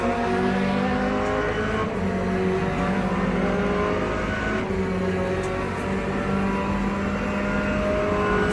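A GT3 race car engine in an endurance racing video game drones and revs steadily, a loud sustained multi-toned whine with slight shifts in pitch and no voices.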